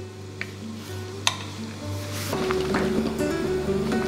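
Pork belly, washed with salt and vinegar, is stirred quickly in boiling water in a pot, with a scrape and a clink followed by a steady bubbling hiss and busy mixing sounds close by.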